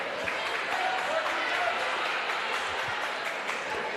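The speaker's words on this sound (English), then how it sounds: "Clapping going on." Crowd applause in a gymnasium during a conference volleyball tournament match, a steady dense wash of clapping that holds at even loudness throughout with faint crowd murmur beneath.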